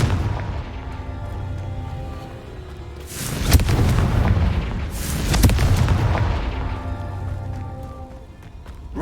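Two loud, booming blasts from a Confringo blasting curse in the Hogwarts Legacy video game, each a broad explosive burst rising over a steady game-soundtrack bed, the second arriving about two seconds after the first.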